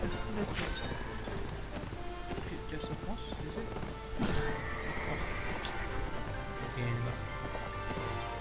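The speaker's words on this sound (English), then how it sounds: "Horse, I was trying to get your horse." Horse neighing and hooves galloping in a video game, with the whinny standing out briefly over a dense, steady bed of game noise and movement.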